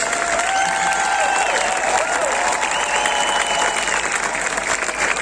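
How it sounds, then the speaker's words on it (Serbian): Sustained applause from a sizable concert audience, dense and even throughout, with faint cheering mixed in. "Aplauz broj 2"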